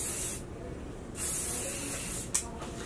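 Hairspray sprayed from an aerosol can onto the hair from mid-lengths to ends while styling beachy waves: close, loud hissing bursts, one long spray and a couple of shorter ones separated by brief pauses.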